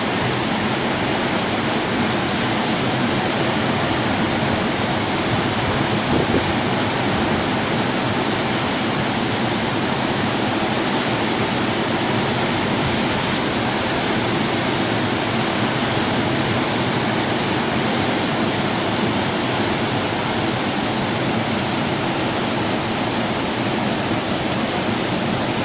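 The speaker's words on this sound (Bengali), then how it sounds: "অসাধারণ সুন্দর একটি ঝর্ণা" Steady, dense roar of a waterfall along the Annapurna Circuit trek in Nepal, heard close and loud as a continuous broadband rush with no pauses or voices.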